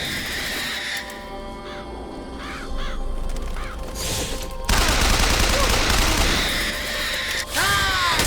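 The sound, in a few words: crows cawing in the video game Bioshock Infinite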